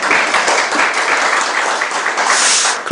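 A lively burst of audience applause at a Korean political reform forum, dense and loud clapping that stays steady for a few seconds.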